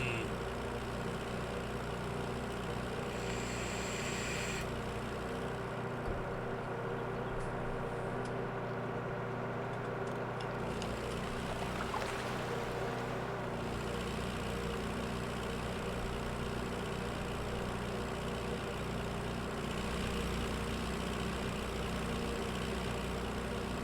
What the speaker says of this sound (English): Brought another tractor down with me.